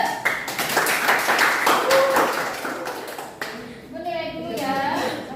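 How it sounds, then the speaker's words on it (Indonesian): Students in a classroom give a short round of applause, a brisk burst of hand claps mixed with children's voices, then fading into talk and a few taps. "Berikan aplaus."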